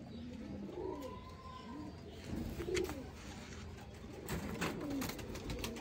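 A Ziry golden pigeon coos in soft, low rolling phrases, several throaty calls spaced a second or two apart, close by against a quiet background with occasional faint rustles and clicks.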